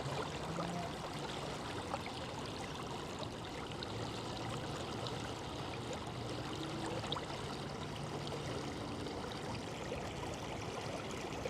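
Turbulent water in the LA River flows with a steady, soft rushing and trickling, continuous and fairly faint, with no voices.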